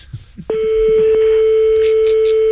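A telephone line gives a few faint, quick tones, then a loud, steady tone that holds without a break before a call, with no voices over it.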